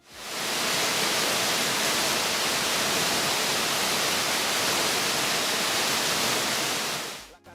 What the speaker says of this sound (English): The Sultan Waterfall